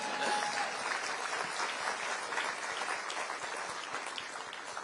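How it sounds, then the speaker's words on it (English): Dense, continuous audience applause at a mental health panel event, a steady wash of many hands clapping that stays level throughout with no voices on top. "That's right, you should clap."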